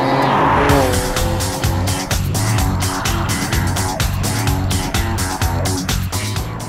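Porsche Macan Turbo S with a 400-horsepower twin-turbo engine driven hard on a test track at the Leipzig factory, loud revving through the gears with rising and dropping engine pitch, sharp shift breaks and some tire squeal.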